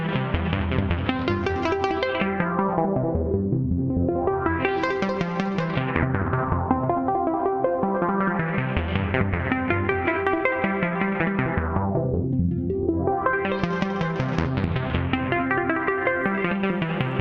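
Mother-32 synth tones patched through an SEM filter and Cumulus effect module in a Eurorack setup, a continuous rich drone whose filter sweeps rise and fall slowly in repeated waves, alone without talk.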